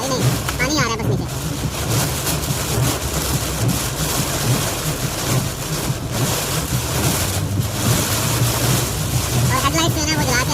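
Heavy rain pours down in Muscat under low visibility, a dense, unbroken roaring wash of water and wind that stays loud throughout, with a voice faintly mixed in.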